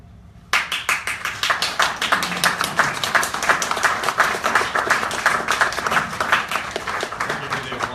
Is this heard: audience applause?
yes